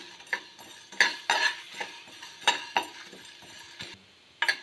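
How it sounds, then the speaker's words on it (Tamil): Metal utensil scraping and clinking against a pan in irregular strokes as spices are dry-roasted for mutton chukka, with faint sizzling underneath; no voices. "இது எல்லாத்தையுமே வறுத்து எடுத்துக்கலாம்."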